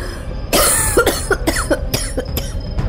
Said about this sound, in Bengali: আচমকাই একটা কাশির শব্দ।